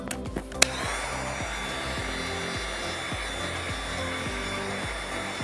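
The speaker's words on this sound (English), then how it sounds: "This trigger on this heat gun, it sticks." A heat gun blows continuously while shrinking ceramic window tint film, a steady loud fan whoosh with a droning motor hum, preceded by a few brief clicks and a sharp tap.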